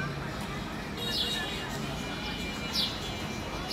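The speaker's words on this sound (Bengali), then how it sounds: "আর ওই যে পাখি ডাকতেছে" Sparrows chirp outside a balcony, two brief bright calls rising over a steady background hum, with a soft murmur of activity between them.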